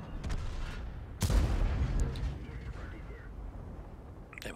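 A tank cannon fires in the World of Tanks video game with one sharp, booming shot that rings out over ongoing battle rumble and scattered distant explosions.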